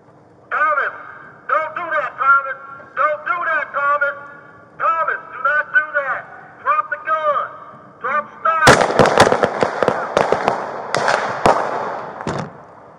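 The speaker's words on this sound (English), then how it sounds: "Shots fired" Gunshots fired during a police confrontation at the end of a chase, a rapid volley of loud, sharp shots from several officers that follows urgent shouted talk.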